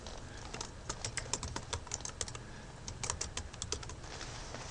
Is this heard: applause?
no